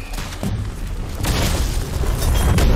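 Gunfire in the video game Rounds: a steady, loud stream of booming, bursting game effects with no clear single shot standing out, continuing without any talk.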